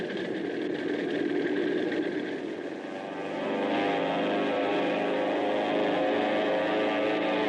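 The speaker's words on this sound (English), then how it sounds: "The P-51s embarked eagerly on their first mission to Japan." Piston engines of P-51 Mustang fighter planes on a mission over Japan, a steady droning roar that swells slightly midway, continuous and fairly loud with no voices.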